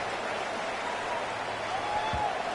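Steady stadium crowd roar fills a college football game in NCAA 26, the buzz of the fans continuous and loud after a score, with no individual voices standing out.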